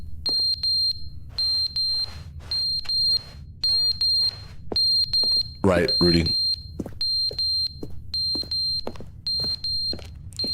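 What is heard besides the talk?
smoke detector low-battery chirp in video game The Stanley Parable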